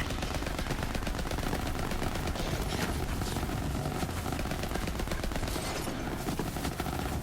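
Rapid, dense gunfire from weapons in Borderlands 3, a continuous stream of loud automatic shots with chaotic combat noise and no talking.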